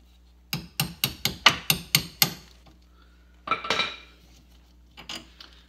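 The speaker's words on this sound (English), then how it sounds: "Just push what's left of those bushings out." Old Club Car golf cart spring bushings being driven out with a bolt: a rapid run of about eight sharp metallic knocks, then a short scraping clatter, with a couple of lighter taps near the end.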